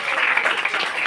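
Audience applause at a CERAGEM product gathering: a steady, dense wash of crowd clapping that stays fairly loud without a pause.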